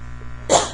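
A single short, sharp sneeze bursts out near the end, loud and close after a moment of quiet.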